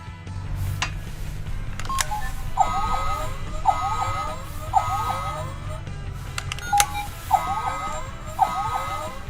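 A Tokkyuger Apuri Changer toy gives off electronic sounds: sharp beeps, repeated chirping tone patterns like a phone dialing, and a siren-like warble, all close and clear over faint background hiss.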